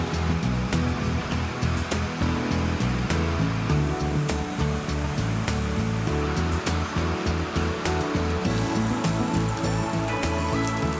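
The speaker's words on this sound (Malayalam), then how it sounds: "പുറത്ത് ഭയങ്കര മഴയാണ്." Heavy rain pours outside a private pool villa in the Munnar forest, a dense steady roar of falling water that continues unbroken and fairly loud throughout, with no voices.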